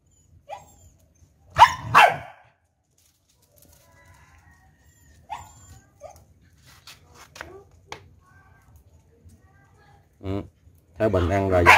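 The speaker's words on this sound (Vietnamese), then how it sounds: "Còn đàn cún con thì đang ăn xong rồi đùa giỡn" A litter of puppies plays in a yard after eating, with scattered short barks and yips near and far. A rooster crows in the background, and speech comes in at the end.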